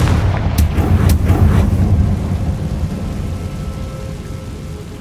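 The Confringo blasting spell cast in Hogwarts Legacy lands as a few sharp explosive cracks early on, then rumbles into a long, fading boom with no voices.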